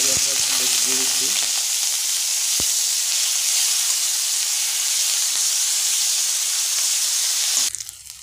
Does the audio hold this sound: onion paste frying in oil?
yes